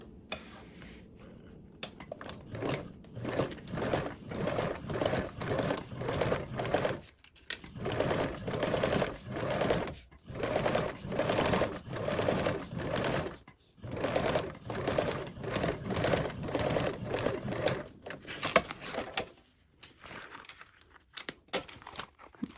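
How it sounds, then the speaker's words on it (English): A sewing machine topstitches along a joined seam of a toiletry bag lining with a 1/8 inch allowance, running in rapid rhythmic bursts separated by brief pauses, close and steady throughout. "now we'll top stitch along that join seam with a 1/8 seam allowance"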